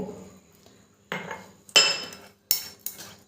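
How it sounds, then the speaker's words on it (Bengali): Rice being washed with water in a bowl, a few short bursts of sloshing and clinking against the bowl separated by brief pauses, up close and alone. "এবার এই চালগুলোকে ভালো করে জল দিয়ে দুবার ধুয়ে নেব"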